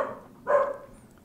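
A dog barks once at close range, a single sharp bark with a short tail, against a quiet room.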